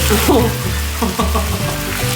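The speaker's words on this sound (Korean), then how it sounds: "약간 기름을 덜어내고 여기 다시 구워가지고 다시 먹자" Gochujang pork belly fries in a pan, a loud, close crackling sizzle with a few soft clunks of stirring or moving the meat, no talk.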